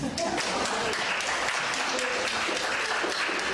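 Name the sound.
applause from an audience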